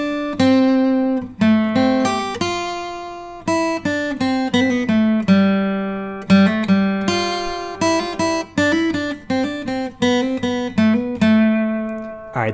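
Guitar playing the first two lines of a song as a lesson demonstration: a steady run of clear, plucked and strummed notes in a rhythmic pattern, close and alone with no voice.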